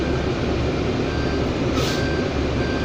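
A 2020 Proterra BE40 battery-electric transit bus deploying its ramp, with a loud steady mechanical hum and a brief high warning beep near the middle, heard up close from inside.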